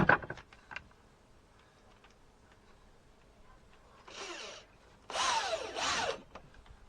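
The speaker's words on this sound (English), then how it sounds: "let's knock a couple of screws into there just now" A power drill drives screws into timber during construction of a garden deck, giving two short whirring bursts followed by a longer drive, fairly close and loud against quiet outdoor background.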